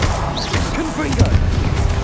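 A Confringo blasting spell goes off in the Hogwarts Legacy video game, a loud burst with crackling impact noise over dense game sound, with voice-like sweeps in the mix.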